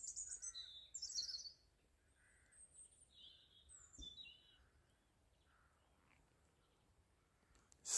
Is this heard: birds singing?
yes